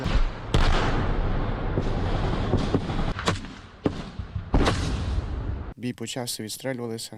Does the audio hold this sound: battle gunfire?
yes